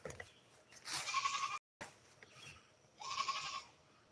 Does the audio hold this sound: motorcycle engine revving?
no